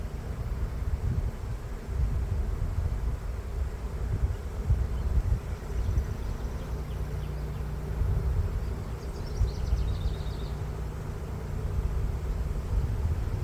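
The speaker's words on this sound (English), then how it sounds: "I caught this swarm last year, and this is a good size" Honeybee swarm of roughly three to four pounds buzzing outdoors, a continuous low droning hum that stays steady throughout, with wind rumble on the microphone and no talking.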